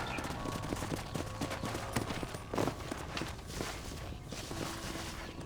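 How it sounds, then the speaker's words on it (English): Horse hooves clip-clop steadily in the video game Red Dead Redemption from 2010, a continuous run of hoofbeats on a ranch amid busy game ambience, moderately loud. "Hit your horse and wait for me by the stable."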